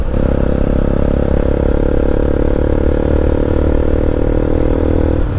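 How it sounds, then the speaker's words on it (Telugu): A motorcycle with its exhaust silencer's KB filter cut out runs loud and close, a continuous blaring engine drone with a raspy, steady tone that holds nearly unchanged before easing off at the end. "మన సైలెన్సర్ అయితే ఎగ్జాస్ట్ కేబీ ఫిల్టర్ కట్ అయిపోయింది."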